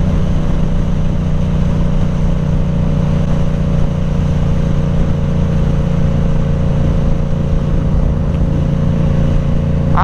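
Yamaha R7 sport motorcycle engine while riding, a steady droning hum at constant throttle holding for the full stretch with no speech.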